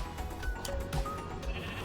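A sheep bleats in a blocky farming video game, a few wavering calls over a busy game soundscape, moderately loud and near, with no talking.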